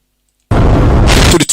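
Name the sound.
petrol tank exploding in a film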